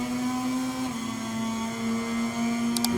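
An Italian Ducati MotoGP racing motorcycle in the MotoGP 23 video game screams at high revs with a steady, loud, sustained engine tone and no talking.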